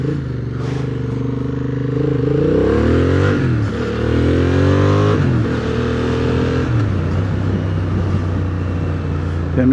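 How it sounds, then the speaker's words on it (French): Loud engine noise of motor vehicles passing close by, with rising and falling revs from several vehicles over a steady road rumble. "Il y a même pas mal de circulation sur cette route là."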